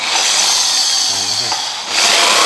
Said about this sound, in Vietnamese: Dùng cái khoan này